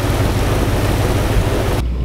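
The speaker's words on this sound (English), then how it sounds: "Just went through a little bit of rain, nothing too intense." Steady rain washes against a vehicle during a Minnesota storm chase, a loud dense broadband roar that drops off abruptly near the end.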